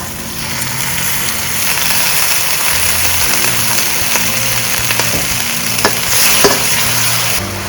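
Pork with shrimp paste and stink beans is stir-fried in a pan, giving a loud, close, continuous sizzle with scattered clinks and scrapes of stirring over a low steady hum.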